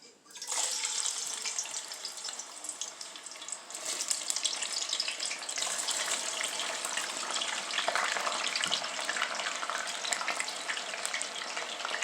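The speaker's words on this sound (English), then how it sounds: "Now we're going to dump in some potatoes." Potatoes frying in a hot pan as a loud, steady hiss and crackle that starts abruptly and holds evenly for the whole clip, close by with no talking.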